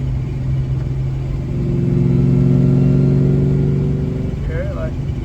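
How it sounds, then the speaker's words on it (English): A supercharged car's gearbox whines in third gear like a straight-cut gear, a rising tonal whine over a steady engine rumble that swells mid-clip and then eases, with voices faintly underneath. "Third gear also developed a whine. It sounds like a straight cut gear."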